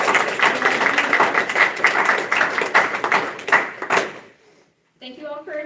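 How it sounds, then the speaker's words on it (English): An audience at a high school National Honor Society induction ceremony applauds in a dense burst of clapping for about four seconds that quickly stops, followed by a brief silence and then a voice beginning to speak. "Please join me in thanking them with a round of applause."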